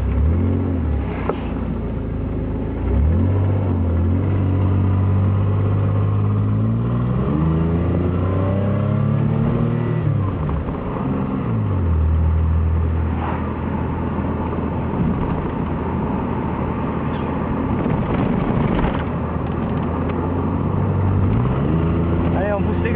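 A 1982 Pontiac Trans Am engine revs and accelerates, loud and close, its pitch climbing and falling through repeated throttle pulls over a continuous rumbling drone.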